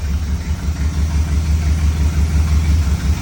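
A Tribute Camaro engine runs with a loud, steady low rumble, close by and continuous, with no clear rise in revs.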